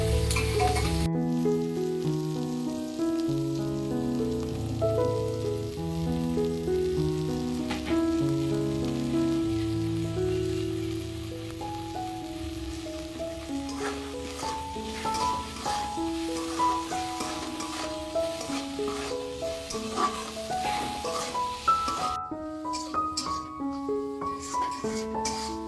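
Semolina upma ingredients with salt and turmeric frying in a pan: a continuous bubbling sizzle with occasional stirring scrapes sits beneath loud melodic background music throughout.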